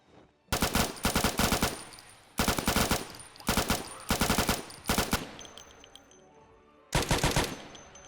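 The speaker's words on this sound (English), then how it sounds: "so I switched to my M249 and started kicking ass with it" Rapid automatic bursts from an M249 machine gun in a video game, several long loud strings of fire separated by short pauses, with no talking.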